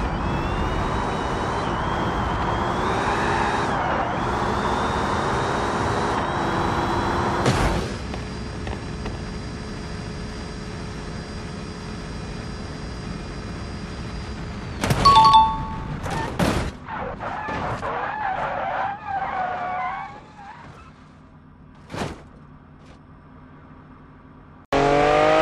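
Mercedes AMG in the BeamNG Drive driving game revving along with a steady rising engine whine, then an abrupt loud crash with clattering impacts and scattered debris bangs before a final hit.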